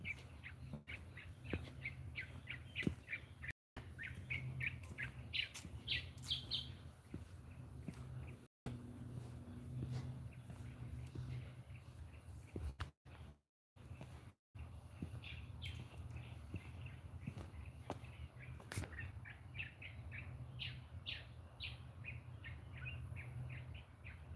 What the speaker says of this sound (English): there's a nice bird calling here